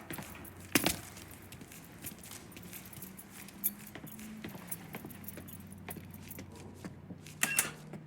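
Keys jangle in the Mafia III video game, with two bright rattling bursts at the start and near the end, close and clear over a low idling vehicle hum and small clicks.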